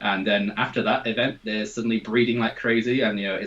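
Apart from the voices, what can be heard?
No distinct noise like a dog, phone or traffic.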